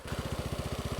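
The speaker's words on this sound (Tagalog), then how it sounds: "Tumataas yung RPM ng Aerox ko." Yamaha Aerox scooter fitted with an UMA/aRacer racing ECU, idling at a raised RPM: a close, steady, rapid engine throb with even pulsing beats and no voices.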